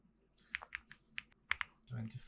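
Keystrokes on a computer keyboard while filling in an expense-tracker template, a handful of sharp, close clicks spaced irregularly, ending in a brief low thump.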